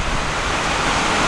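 Rain falling steadily on a farm after the plants were watered, a dense, loud, continuous hiss of downpour with no pauses and no voices.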